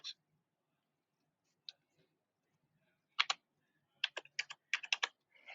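Phone number being typed on a computer keyboard, sparse individual key clicks followed by a quick run of close, crisp keystrokes in a quiet room.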